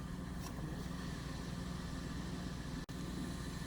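Engine of a 2005 Chevrolet Silverado running rough and stumbling, a steady close idle drone with a sudden brief dropout near the end.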